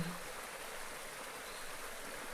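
A river stream flows in a continuous, even rush of water, a soft and unbroken wash used as a backdrop for a guided relaxation session.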